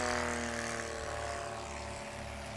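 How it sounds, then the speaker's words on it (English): A propeller airplane roars close and loud at the 2024 Sodbusters STOL competition, a steady droning engine tone that holds throughout without fading. "I can't hear you over the plane. The plane's way too loud."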